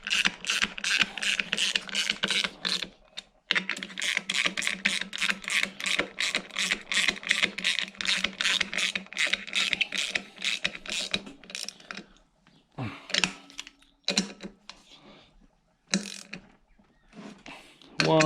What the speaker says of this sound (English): I'm using my 9/16 spanner or socket.